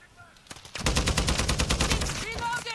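Rapid automatic gunfire in the video game Modern Warfare 2, loud sustained bursts of close shots rattling continuously for about two seconds after a few isolated reports, over a faint background game tone.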